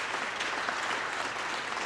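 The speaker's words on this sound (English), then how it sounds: "they deserve a round of applause from us all" A crowd at a Welsh National Assembly election count breaks into thick, continuous applause, loud and even from start to finish with no talking over it.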